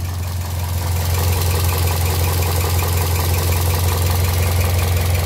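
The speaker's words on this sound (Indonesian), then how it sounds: "Nah, mesinnya nyaris tak bersuara." Toyota Vios second-generation car engine idling, a steady low rumble with a faint rhythmic knock, close and continuous throughout with no talking.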